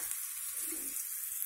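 Spice tempering (popu) sizzles as it is poured into a roasted brinjal curd chutney, a steady hissing fry throughout with a brief swell in the middle.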